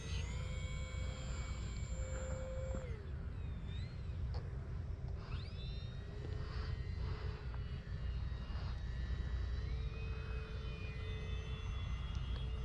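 An E-Flite RV-7 radio-controlled sport plane flies at a distance, its motor a faint, thin whine that shifts in pitch as it passes, over steady outdoor background noise.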